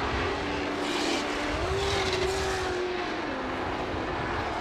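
Off-road racing trucks roar around a dirt track in a TORC championship race, a loud steady engine drone with a rising and falling tone as they pass.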